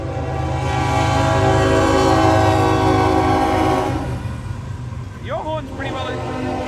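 Train passing with a loud sustained horn blast that fades after a few seconds, followed by a brief whooping sound, with voices of people talking over it.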